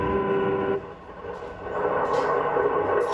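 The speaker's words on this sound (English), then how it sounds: "Now the train's hurrying through farm country." A 1955 passenger train hurries through farm country, its steady rolling rumble and rail noise continuous and fairly close, easing briefly mid-way before building again.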